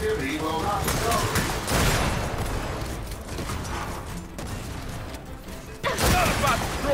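Dense, sustained gunfire rattles through a Gears of War 4 campaign battle, loud bursts layered with crashes and impacts, while game voices and a player talk over the fighting.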